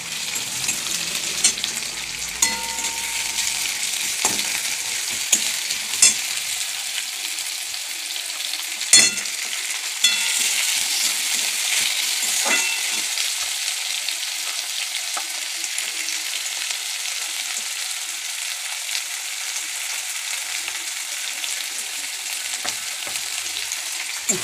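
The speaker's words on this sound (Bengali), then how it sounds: "পেঁয়াজটা ভালো করে ভেজে নিই" Onions fry in a pan with a continuous loud hiss and crackle, broken by several sharp clicks and scrapes from stirring, and no talking.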